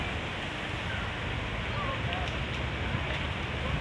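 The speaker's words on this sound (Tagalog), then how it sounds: "malakas pa rin ang apoy dito oh" A dense, steady roar of a junk shop fire burning nearby, a continuous rushing crackle with no pauses.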